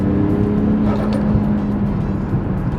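Toyota Crown with a 1JZ engine accelerating on a drive at a drifting test center, its loud engine drone rising steadily from close inside the car.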